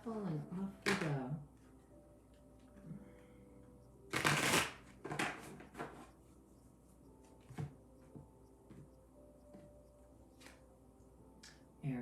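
Tarot cards being shuffled by hand, several short riffles and soft slaps of the deck, close and quiet, scattered between stretches of a voice.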